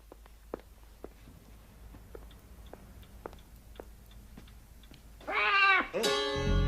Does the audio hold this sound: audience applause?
no